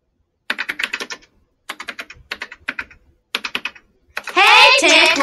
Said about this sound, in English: I'm typing a terrifically important letter on my computer